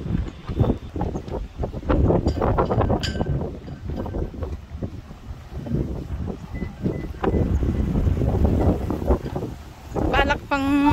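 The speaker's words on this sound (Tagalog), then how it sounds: "That's how windy it is here right now." Strong wind at a US national park buffets the microphone in heavy, uneven gusts that roar loud and close throughout, with people talking underneath and a short high whine near the end.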